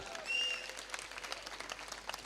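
Audience applause at a cultural program of performances by special children, a dense patter of many hands clapping at moderate volume, with a brief bright tone near the start.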